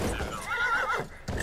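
A horse in the video game Battlefield 1 gives one loud, close whinny that rises and wavers, then drops off sharply, followed by a brief thud of hooves.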